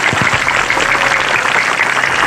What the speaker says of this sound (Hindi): जोरदार ताली बजा के स्वागत करें कि लगे कि ताली बज रही है कहीं।